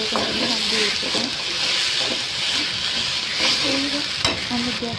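Ginger garlic paste sautés in a hot pan for egg curry, giving a dense continuous sizzle with scraping stirs over it, close and loud.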